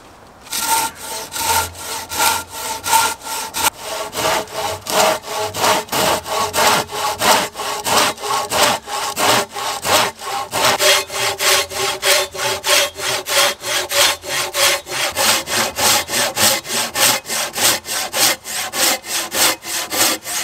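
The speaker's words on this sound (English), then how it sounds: "I'm gonna start with this saw, with this blade, and I'm gonna take down a bit of this firewood." A large folding saw with a 500 mm blade cuts through firewood in steady, rhythmic back-and-forth strokes, loud and close, continuing alone for the whole stretch.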